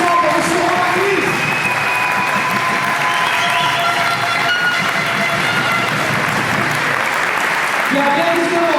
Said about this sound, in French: Applaudissements pour M. Romain Ruiz.